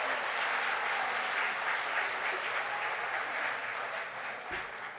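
Steady, fairly distant applause from an audience for participants on stage, a dense wash of clapping that holds evenly for five seconds and tapers slightly at the end.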